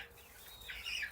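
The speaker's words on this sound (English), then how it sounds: "we'll go ahead and let the chickens get settled in" Young chickens, a flock of about thirty chicks, clucking and chirping faintly in an indoor coop as they settle in, soft scattered calls rising briefly near the end with no talking.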